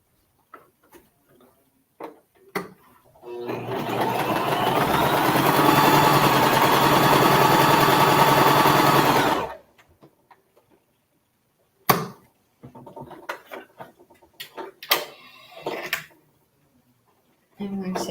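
A sewing machine stitches a quilt block in one steady, close motorized run of about six seconds, then stops; afterward come scattered handling clicks and a voice talking.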